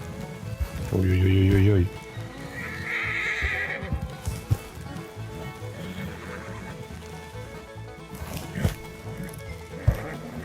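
A tired horse in Red Dead Redemption 2 gives a loud, close neigh, followed by a softer snort and hoof sounds while people talk over the game audio.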